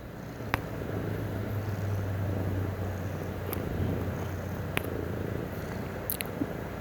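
A contented cat purrs close by, a low steady rumble most prominent in the first half, with faint room noise and a few small clicks around it.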